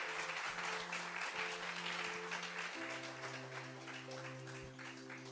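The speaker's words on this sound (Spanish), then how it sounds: "Den un fuerte aplauso a Dios en esta mañana." A church congregation applauds during a Sunday morning service, a dense, steady clapping that fills the room while sustained organ or keyboard chords ring underneath.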